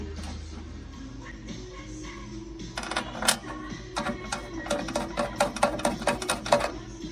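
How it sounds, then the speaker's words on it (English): Hand rivet nut tool setting an M8 rivet nut in a Ram ProMaster van, a run of quick ratcheting metallic clicks that speeds into a rapid rhythm over a steady low hum, close by. "It takes about 30 to 45 seconds to set one rivet nut."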